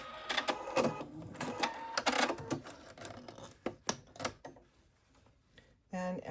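A sewing machine back stitching fabric for a baby's sun hat, giving a quick rapid clatter of stitches that slows into scattered ticks, close and fairly quiet.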